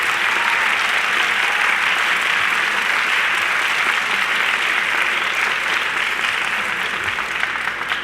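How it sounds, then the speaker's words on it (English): Steady, dense applause from an audience at a distinguished alumni awards ceremony, sustained and even for about eight seconds with no talk over it. "you could give them a round of applause"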